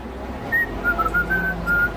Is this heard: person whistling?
yes